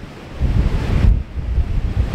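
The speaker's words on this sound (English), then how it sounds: "Sure is windy." Strong wind buffets the microphone by the sea on the Isle of Arran near a castle stair, a loud, continuous rumbling roar with surf-like gusts and no voices.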